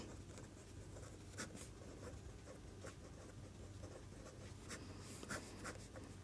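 A pen scratches steadily on paper while a math solution is written out, producing faint, close strokes in short irregular bursts against a quiet room hum.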